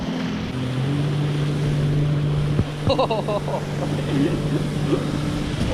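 Sofa boat skimming over water behind a jet ski, a steady low motor drone with wind and water rush throughout, while voices shout and talk excitedly over it.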